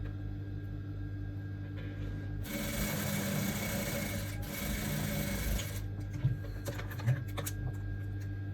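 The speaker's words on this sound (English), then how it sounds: "I'm running a straight stitch from that place down to this place." A sewing machine stitches a straight seam on a corset, a steady whirring run of about three seconds near the middle over a low electrical hum, followed by a few faint clicks.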